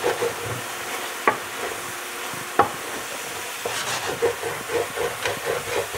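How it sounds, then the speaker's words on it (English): Marsala cooking wine hitting a hot pan to deglaze it, giving a steady steamy hiss and sizzle with scraping and stirring strokes throughout, plus a couple of sharp knocks from the utensil against the pan. "I'm going to add a little bit of Marsala cooking wine. Get those bits off the bottom, clean that pan up, and deglaze it."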